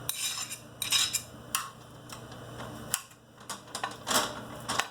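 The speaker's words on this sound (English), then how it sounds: "first I'm going to place my shallots and my ginger into the pan" Shallots and ginger dropped into a pan for Szechuan string beans, heard as a scattered run of light clinks and clatters of metal utensils against cookware, close and fairly quiet, with no talk.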